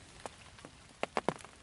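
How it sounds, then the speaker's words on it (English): Rain dripping off carbon fishing rod blanks onto the line at a winter pool, heard as a few sparse, close taps and drops at irregular intervals, with a cluster of three sharper drips near the end over quiet background. "if it isn't the rain falling off the blanks of the rods onto the line every now and then"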